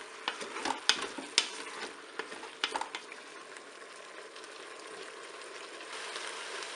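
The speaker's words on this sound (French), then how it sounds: "Je vais remettre mes pommes de terre dans la cuve." Potatoes browning in the pot of a Cookeo multicooker, a faint steady sizzle with a few sharp clinks and scrapes of stirring early on, then quieter continuous frying.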